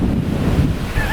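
Strong typhoon wind roars over the Siargao coast while massive waves crash nearby, a loud, turbulent buffeting with wind rumbling against the microphone and no speech.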